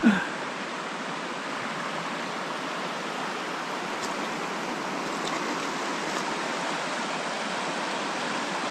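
A river stream flows beside a forest clearing, an even, unbroken rushing wash, loud and close from start to finish with no speech over it.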